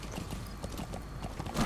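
Quick, even hoofbeats of a galloping horse in the video game Metal Gear Solid 5, moderately loud and near, running briefly on their own.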